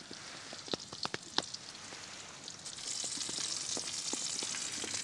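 A fat ribeye steak topped with onions sizzles and crackles on a Fastfold Plus titanium camp stove, with sharp popping spatters that swell into a steady hiss, up close and with no voices.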